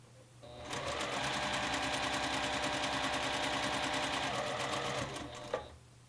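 A sewing machine runs a steady, fast stitching burst for about five seconds while piecing a quilt seam, close and even in rhythm, starting and stopping cleanly with no talk.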